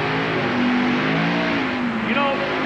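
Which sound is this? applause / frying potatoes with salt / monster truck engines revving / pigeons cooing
monster truck engines revving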